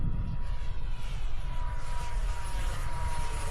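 A radio-controlled Batwing model airplane with a gyro flies overhead, its small motor giving a steady droning whine over wind noise at moderate distance, continuous with no talking.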